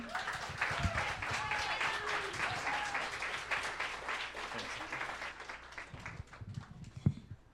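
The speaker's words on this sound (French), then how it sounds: "On peut l'applaudir." An audience applauds after a talk at a quantum science event, brisk clapping from a sizable crowd that thins out toward the end, with voices and cheers mixed in.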